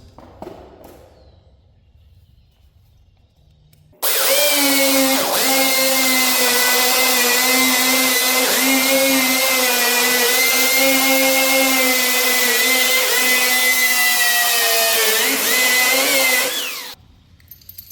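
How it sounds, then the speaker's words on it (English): A power drill with a 1/2 inch bit bores a four-inch-deep hole for sleeve anchors while setting support posts for a grain bin gazebo. One loud, sustained whine runs about thirteen seconds, then stops. "This is a 1/2 inch bit. Need to go down 4 inches."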